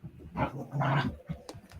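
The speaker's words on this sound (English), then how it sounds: "She's going to bark and be loud." A pet dog, just one year old, vocalizes excitedly in a few short bursts, mixing whiny, growly yelps with quick sharper sounds, close by and fairly loud, with no talking.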